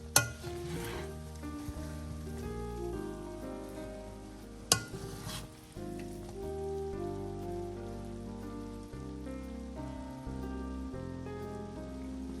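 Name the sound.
gently mixing cooked rice in a pot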